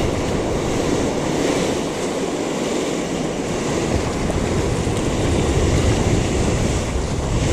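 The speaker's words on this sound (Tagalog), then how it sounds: "lakas ng alon" Strong surf breaking steadily on a shore where someone is fishing with lures, a loud continuous roar of crashing waves with wind rumble across the microphone and no talking.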